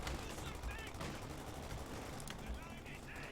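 Machine gun fire in a World War II strategy video game on the Minsk map, with rapid bursts of gunshots over continuous battle noise and a voice talking over it.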